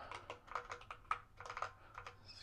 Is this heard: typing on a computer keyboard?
yes